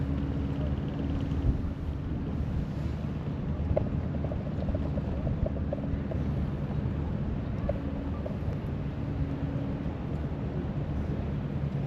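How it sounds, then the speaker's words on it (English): A low, steady engine rumble of a tour boat docking on the Vltava river in Prague drones throughout, with wind buffeting the microphone and faint background clatter. "Now we have to wait a few minutes because this boat goes to the landing"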